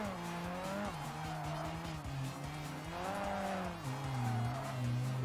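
Tires squeal continuously as a Mitsubishi Eclipse drifts in the Tokyo Xtreme Racer: Drift 2 video game, with a wavering engine note rising and falling beneath the skid.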